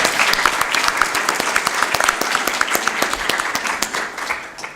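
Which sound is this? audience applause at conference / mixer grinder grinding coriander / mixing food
audience applause at conference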